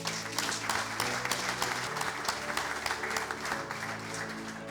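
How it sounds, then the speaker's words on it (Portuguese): A hall audience claps at a 25 April commemoration, a sustained, dense round of applause that stays steady and loud throughout, with no break or voices standing out. "Em sua homenagem, uma enorme salva de palmas."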